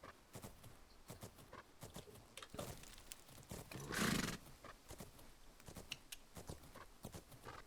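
A horse in a horse riding video game gives one clear whinny midway, with soft hoof clip-clops and game sounds around it, all faint.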